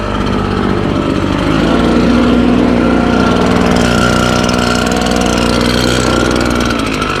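A gas-powered blower clears debris off freshly laid hardscaping, a loud, close, unbroken engine drone that holds steady throughout with no voices.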